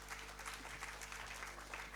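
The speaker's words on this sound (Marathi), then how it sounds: "तेव्हा एकदा तुमच्यासाठी सगळ्यांसाठी टाळ्या वाजवायला काहीच हरकत नाही आहे." Audience applause at a financial seminar, a steady dense wash of clapping filling the whole moment at moderate loudness, with no clear voices over it.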